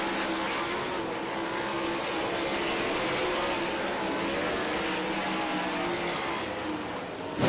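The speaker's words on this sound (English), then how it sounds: "Three laps remaining for the Roth Enterprises number 83. Same advantage over Gravel" World of Outlaws sprint cars race at Devil's Bowl Speedway, their engines a loud, continuous roar that swells and fades slightly as they pass.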